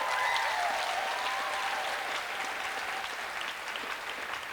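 Sustained audience applause at a poetry slam, dense and steady for several seconds with a few faint cheers early on, gradually thinning toward the end.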